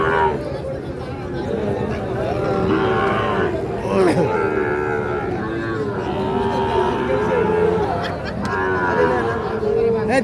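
Sahiwal bull calves about six to seven months old low and moo at the Ambari cattle market. Their calls rise over a busy, loud crowd of talking buyers and sellers.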